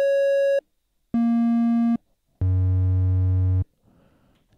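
Three held triangle-wave notes from a Korg MS2000 synthesizer descending in pitch, each with brief gaps between, the last lowest and longest, ending in a faint quiet hum.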